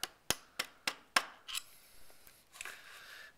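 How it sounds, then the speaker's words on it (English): A rubber mallet strikes a cheap flathead screwdriver held against a clutch lock washer and nut, five sharp evenly spaced taps up close, followed by quieter scraping and rubbing. "use my rubber mallet and I'm going to use a cheap flathead here"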